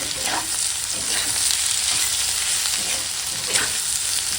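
Cooked potato vegetable curry stirred in a hot pan, a steady close sizzle with soft scraping strokes of the spoon running throughout.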